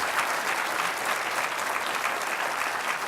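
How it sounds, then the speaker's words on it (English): A large crowd at EVE Fanfest 2012 claps steadily in a dense, sustained burst of applause filling the hall, with no speech over it. "So if you guys could give him a round of applause."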